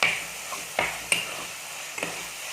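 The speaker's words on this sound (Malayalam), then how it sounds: "ഇതിലോട്ട് അരിഞ്ഞ് വെച്ചിരിക്കുന്ന പച്ചമുളക് ഇട്ട് കൊടുക്കാം" Four chopped green chillies tossed into a pan for a Kerala fish head curry, giving a few soft sizzling bursts and light stirring clicks over a faint background hiss, no voices.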